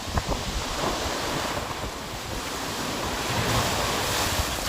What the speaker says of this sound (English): Yeah, it's quite a big lot of waves here.